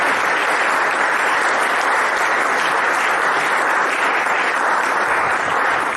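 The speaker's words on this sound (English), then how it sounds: "So please applause for Peter" A dense, steady burst of audience applause at a Lindy Hop dance workshop history talk, welcoming a guest speaker; loud, close and sustained for about six seconds with no talking over it.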